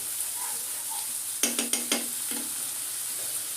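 Spice masala for a rohu fish curry with bottle gourd sizzles in a hot pan under a steady hiss, broken by a quick run of sharp spoon scrapes and taps against the metal.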